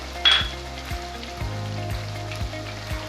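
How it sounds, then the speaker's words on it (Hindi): Green chili paste sautéing in a pot for white beef palau, a steady soft sizzle with a clink near the start and a low rhythmic hum beneath. "साथ ही हम इसमें हरी मिर्चों का पेस्ट डाल देंगे जो हमने बनाया था, तो भी हम थोड़ा भून लेंगे।"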